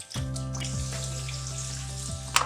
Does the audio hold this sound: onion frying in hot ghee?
yes